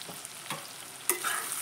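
A spoon scrapes and stirs spices into chicken frying in a little oil in a pan for chili chicken, with a few soft scuffs and a faint sizzle in a quiet kitchen; no one speaks.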